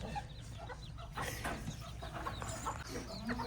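Bantam chickens on a farm cluck softly nearby in short, scattered calls against a low background murmur.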